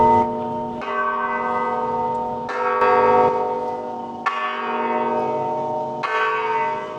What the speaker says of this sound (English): The bell is ringing, so I'm gonna go see what's going on here.